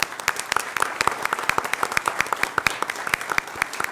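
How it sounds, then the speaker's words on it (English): An audience at a school district recognition ceremony applauds teacher award candidates with brisk, sustained clapping in which individual claps stand out, close and lively throughout. "Let's give a round of applause to all of those candidates."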